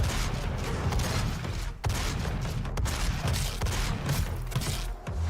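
Rapid, continuous gunfire in a video game rattles loudly and closely, with brief breaks and sharp single shots between mechanical clacking.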